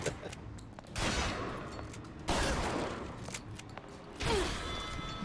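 Shotgun blasts fired at point blank range in BioShock Infinite, three loud booming shots spaced about a second or two apart, each with a long decaying rumble, amid game sound effects.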